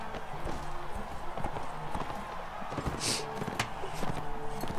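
Horse hooves beat out a steady galloping rhythm in Mount and Blade: Warband, moderately loud and continuous, with a short high whinny-like burst partway through.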